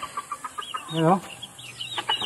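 A Lemon Sweater gamefowl chicken clucks close by, a string of short rhythmic clucks with one longer, drawn-out call in the middle, heard alone without talking.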